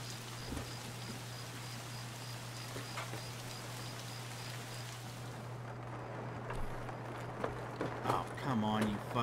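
Steady rain in Escape From Tarkov, a continuous hiss heard from indoors with an outdoor downpour muffled through walls, a low hum beneath and brief clatters near the end.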